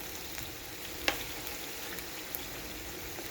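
Steady, quiet sizzling of chopped onions sautéing in a pot for green bean stew, a soft continuous crackle with a couple of faint clicks and no voices.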